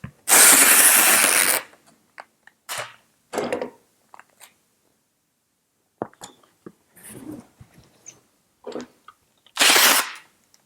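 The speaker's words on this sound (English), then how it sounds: "And I'll actually do 3 strips of tape, one down the center and then one on each edge of that strip" Packing tape is ripped off the roll in a long, loud screeching pull, then pressed and smoothed onto a cardboard box, followed by scattered rustles and taps and a second shorter tape pull near the end.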